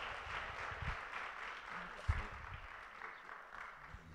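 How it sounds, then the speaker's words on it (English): Applause from a church congregation welcoming a bishop, a fairly faint, steady patter of many hands clapping with some low background voices. "So we're going to ask you to put your hands together and welcome Bishop Samuels with a really warm Beth Shalom welcome."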